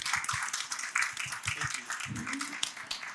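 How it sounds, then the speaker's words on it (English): An audience at an energy conference session applauds with scattered, fairly quiet clapping, and a voice speaks briefly in the middle. "a round of applause for another new signatory"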